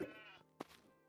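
A sheep in the video game Craftopia gives a drawn-out, wavering bleat, then a sharp short bleat or hit sound, fairly quiet and set against low background game ambience.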